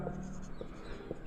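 A pen scratches on paper while a maths solution is written out, producing faint, soft strokes with a few light taps, close by, and no talking.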